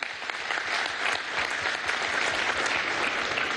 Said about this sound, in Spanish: Un aplauso a todos los industriales.